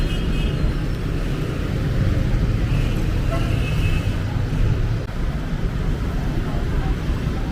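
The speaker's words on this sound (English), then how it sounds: "Traffic right now. Not so big traffic, but sometimes heavy traffic." Road traffic in the Philippines rumbles steadily nearby, a dense low roar of passing vehicles with no distinct pauses, loud and continuous throughout.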